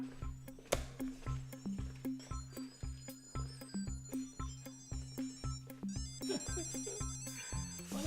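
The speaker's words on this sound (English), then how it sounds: "Hey, you got a phone call." Tile Mate tracker ringtone chiming a repeated melodic phrase in even pulses, near and clear, with no speech present.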